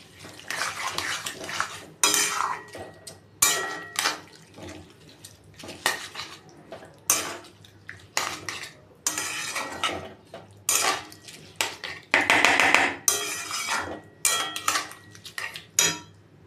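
Rice and lightly fried, rinsed moong dal go into a cooking pot and are stirred, giving irregular metallic scrapes and clinks of a utensil against the pot, close and alone.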